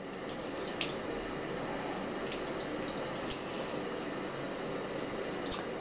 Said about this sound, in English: just put them underneath the water facing down, swirling them a little bit in your hand to help get some of that soap out of there